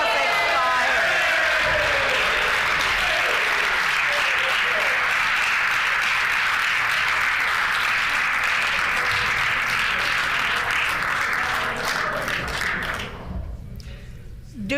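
Sustained applause in a provincial legislative chamber, dense and steady clapping that carries on for a long stretch before tapering off at the end.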